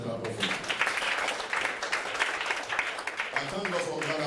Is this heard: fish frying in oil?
no